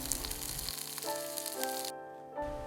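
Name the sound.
rolled dumpling wrappers pan-frying in covered pan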